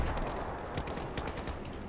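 Dense, continuous gunfire in a Battlefield 4 multiplayer match, with steady rapid shots and distant explosions blending into a busy battlefield din, loud and unbroken throughout.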